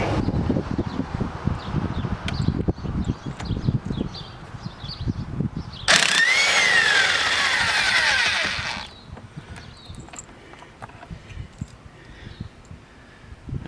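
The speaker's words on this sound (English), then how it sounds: "I found the easiest way to remove the bolt is to use an impact wrench" An impact wrench with a T50 socket spins out the steering wheel bolt of a C7 Corvette in one loud whirring burst of about three seconds, set among quieter handling noises and rustling.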